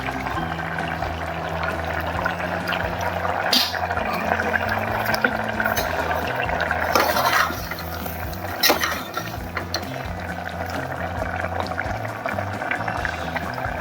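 Cashew curry simmering in a pot on a wood-fired clay stove, releasing water as it cooks, with a steady bubbling and hissing boil and faint crackles that continue throughout without talk.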